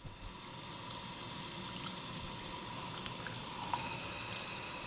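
A steady, broadband rush of running water from a typical kitchen faucet, constant and fairly close, with no voices.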